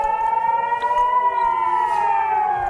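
A civil warning siren wails in the city of Kiryat Shmona after an attack, one steady tone that rises and falls gently, loud and continuous with no other sound.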